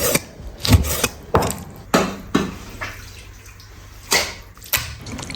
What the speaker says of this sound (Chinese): 洗干净切成小块。